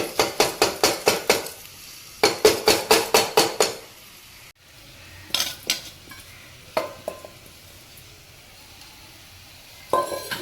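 A ladle stirs washed rice and lentils into fried onions in a metal pot, with fast bursts of rhythmic scraping knocks, a pause, then scattered single clanks over a faint sizzle.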